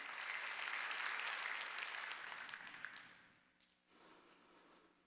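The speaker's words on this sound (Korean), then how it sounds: "박수야. 방언이 임했다는 거예요." Congregation applauding during a Sunday worship service in a church, a broad sustained wash of clapping that fades out, then a brief quieter patch before a thinner layer of sound returns.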